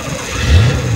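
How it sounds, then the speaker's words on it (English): Car engine on a wet drive in Patagonia roaring back to life while moving, a loud close rumble that swells upward in pitch as it picks up, heard alone without talking. "Oh no, the engine's now back."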